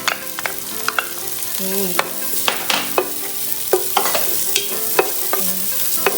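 Minced onions sizzling in hot oil with garlic in a pan, steady frying hiss punctuated by frequent sharp clicks of a spatula stirring, close and loud; a voice briefly speaks.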